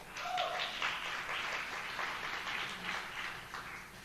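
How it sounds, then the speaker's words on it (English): Applause from an audience at a talk on mystical movie messages, a steady mid-level patter of clapping filling the whole stretch without pause. "just to explain why you're clapping"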